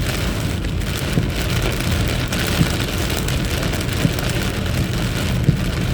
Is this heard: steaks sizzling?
no